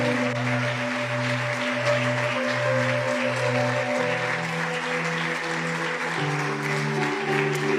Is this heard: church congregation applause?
yes